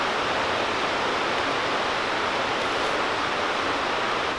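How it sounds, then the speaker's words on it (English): Noland Creek in Great Smoky Mountains National Park flows with a steady, even rush of water that fills the whole stretch, close and unbroken, with no voices. "Listening to that wonderful water."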